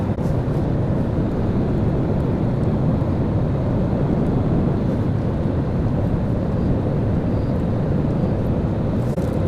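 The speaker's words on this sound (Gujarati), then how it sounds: "ઉપરથી પ્લેન પસાર થઈ રહ્યું છે અને થોડી વારમાં જ કરશે લેન્ડિંગ" A passenger airplane passing overhead on approach to land in Ahmedabad, near the ring road, gives a steady, loud, broadband rumble that holds for the whole stretch with no talk.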